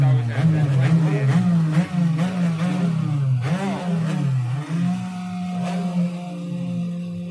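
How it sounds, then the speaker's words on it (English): A racing hydroplane engine in an F125 heat at Jedovnice, Czech Republic, revs hard with a rising and falling buzzing whine, close and loud throughout, under a commentator's voice. "Someone is trying to blow up his engine here."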